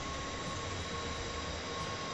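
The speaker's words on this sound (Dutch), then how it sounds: "Dus ja, het is rijden met deze trein naar Schiphol." Steady rumble inside a train car riding toward Schiphol, a continuous broadband hum and rattle with a faint tonal whine, close and even throughout with no talk.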